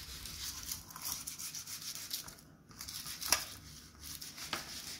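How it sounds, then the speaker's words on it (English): A halved garlic clove rubbed against raw butternut squash gives a close, soft scraping and rubbing texture, steady over several seconds with a couple of brief sharper scuffs, and no talking over it. "Then we have a garlic, which I've cut in half. We're going to do this, we're going to rub it."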